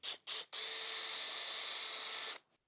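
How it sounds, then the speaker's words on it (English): A unibit step drill bores out a hole to pass a wiring harness while installing a Banks Stealth Pod in a 2024 Silverado ZR2 3.0 Duramax diesel: two brief trigger pulls, then a steady high whine for nearly two seconds, close and alone. "I'm going to go ahead and drill that hole out a little bit right there with the unibit."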